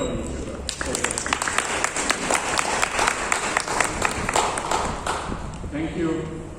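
A gathering of clergy at a training session bursts into applause, a dense spread of hand claps running continuously, with crowd murmur mixed in.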